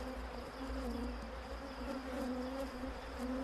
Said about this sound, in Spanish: Y ya metemos el ganado para hacer el enjambre.